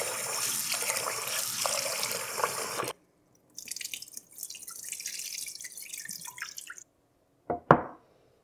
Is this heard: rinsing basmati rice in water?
yes